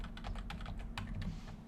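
Rapid, close keystrokes on a computer keyboard, a quick run of clicks over a steady low background hum.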